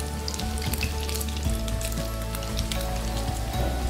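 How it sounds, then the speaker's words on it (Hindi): Chicken noodle kababs fry in a pan over medium heat, their second side browning to golden, with a close, steady crackling sizzle that runs the whole time without any talking. "इसको एक साइड से हमने ब्राउन कर लिया, अब दूसरी साइड से गोल्डन ब्राउन करेंगे"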